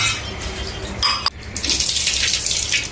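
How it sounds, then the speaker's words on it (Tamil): Water is poured into a bowl of cut tomato and tamarind to soak for rasam, a steady splashing stream with a brief pause before it resumes and runs on evenly, with no talk. "இப்ப தண்ணி ஊத்தி ஊற வச்சுக்கலாங்க"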